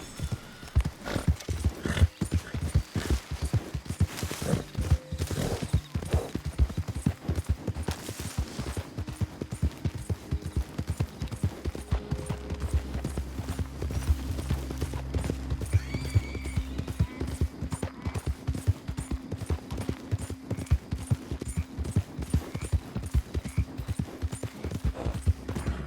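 Horse hooves clip-clop steadily at a brisk riding pace in the video game Red Dead Redemption 2, a continuous rhythmic clatter that is close and prominent, with a brief whinny and faint distant gunfire mixed in.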